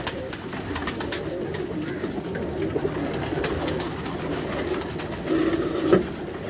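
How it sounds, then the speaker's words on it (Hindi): Pearl-spotted pigeons coo softly in a breeding cage amid a steady murmur of birds, with a slightly louder burst of cooing near the end. "ये ब्रीडिंग केज है ना मोतियां वाले कबूतरों का है"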